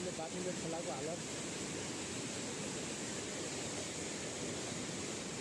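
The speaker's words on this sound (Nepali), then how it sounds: "ल गाइज म तपाईलाई चाहिँ सुन्दर झरना देखाउँदै छु।" River and waterfall at Chhedaghat pour out a steady, loud, broadband rush that holds constant throughout, with a faint voice briefly audible near the start.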